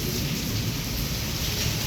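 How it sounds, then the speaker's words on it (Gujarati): Heavy rain pours steadily during a night thunderstorm in Wankaner, with wind and lightning, a dense continuous roar of rainfall filling the short stretch without any voices. "વીજળી સતત ચાલુ છે વરસાદ ચાલુ છે પવન ચાલુ છે"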